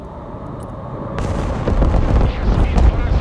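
Heavy bombs explode in the Broken Arrow war game, a low rumbling barrage that swells from a muffled roar into dense, overlapping booms and crackling blasts, loud and continuous.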